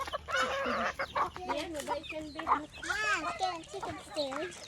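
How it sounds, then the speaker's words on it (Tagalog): Several chickens cluck and squawk close by, overlapping calls in an uneven chorus with a person's voice joining in. "Daming manok oh."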